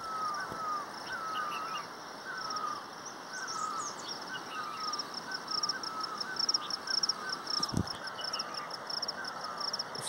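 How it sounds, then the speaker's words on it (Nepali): Birds call on a hillside early in the morning, with repeated chirps and whistled notes over a steady outdoor background, fairly distant and continuous. "यहाँ चरा कस्तो मजाले कराइरहेको छ सुन्नु है"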